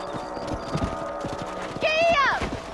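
Horse hooves clip-clop in Red Dead Redemption on Xbox 360, a steady trot on a ranch with background game sounds and a brief whinny-like tone near the end, while a voice talks over it.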